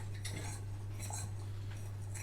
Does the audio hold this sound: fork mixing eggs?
yes